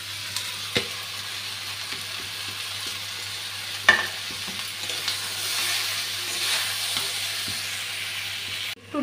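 Potatoes sizzle softly and steadily in a hot pan alongside frying katla fish pieces and eggplant, with a single utensil clunk partway through and no talking.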